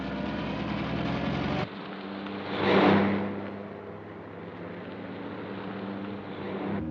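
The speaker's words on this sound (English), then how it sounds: "There's a car following us." A car engine hums steadily during a night chase, in a 1940 film. The tone drops suddenly, swells briefly into a louder whooshing rush, then settles back to a low, even rumble.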